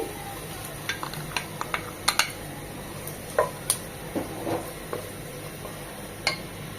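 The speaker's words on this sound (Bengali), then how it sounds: "ঘি আর তেলটা গরম হয়ে এলে দিয়ে দিব 1 কাপ কুচানো পেঁয়াজ কুচি" One cup of chopped onion fries in hot ghee and oil, giving a steady soft sizzle with scattered sharp pops and occasional utensil clicks as it is stirred, close and without talk.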